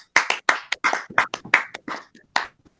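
A small group clapping at a school athletics senior spotlight for women's track and field seniors, about a dozen sharp, close, irregular claps over nearly three seconds, with no talk.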